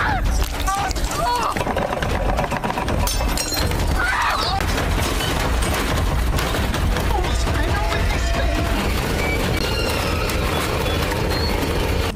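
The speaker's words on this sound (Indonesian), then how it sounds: "Mesin cuci Sheila tiba-tiba bergetar ekstrim hingga hancur berantakan." A loud, sustained clattering and banging of a washing machine shaking violently and breaking apart in the 2018 film In Fabric, with crashing debris throughout.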